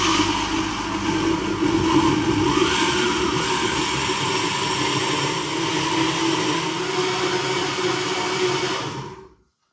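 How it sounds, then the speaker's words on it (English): A blender grinding grapes whirs loudly and steadily for several seconds, with a harsh motor drone, then cuts off abruptly into silence. "I've got my grapes in the blender"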